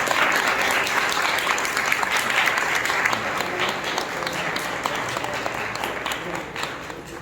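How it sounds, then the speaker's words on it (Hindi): Audience applause fills a theatre after a staged performance of short stories in Indore, loud sustained clapping that gradually thins toward the end, with a voice briefly under it. "मैं चाहता हूं कि आप इसका तालियों की जोरदार गड़गड़ाहट से स्वागत करें"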